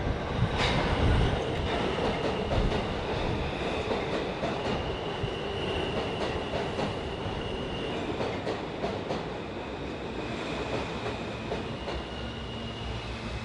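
A Queens-bound F local subway train in New York rumbles and rattles along the tracks, a steady loud roar with clacking wheels and faint metallic squeals throughout.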